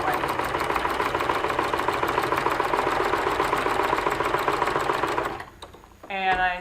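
Sewing machine stitching handwoven fabric off a rigid heddle loom, running as a loud, steady mechanical whir for several seconds before stopping, after which a voice begins speaking.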